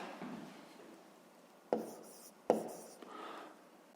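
Pen or marker writing on a board or paper for a fifth-grade maths exercise, a soft scratchy rubbing with two sharper taps, quiet and close with no talk.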